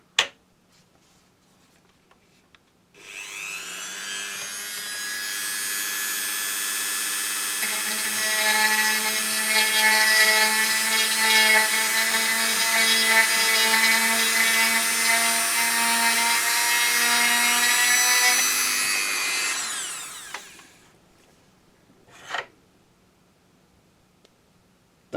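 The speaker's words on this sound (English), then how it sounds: "So that's the drilling part done." A steady, continuous drill whine runs for about seventeen seconds as the bit enlarges a hole in a vintage TMNT Metalhead toy. It starts abruptly and stops abruptly, with a couple of small clicks after it.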